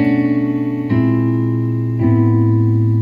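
A piano plays 7-3-6 chord voicings using a tritone substitution, three sustained chords struck in turn about a second apart, clear and moderately loud, with no voice.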